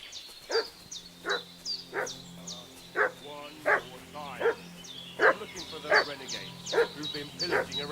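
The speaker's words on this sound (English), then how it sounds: "What's that dog making such a fuss about?" A dog barks repeatedly in Kingdom Come Deliverance 2, a sharp, evenly spaced series of about a dozen barks set against a low ambient drone and faint background sounds.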